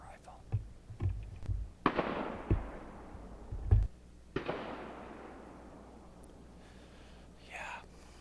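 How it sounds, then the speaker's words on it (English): Several distant rifle shots from a neighbor's property during early-season bowhunting in Wisconsin ring out as sharp reports, each with a long rolling echo decaying across open ground, spaced irregularly with quiet between. "So the neighbor's been blowing off rifle rounds for like 15 minutes."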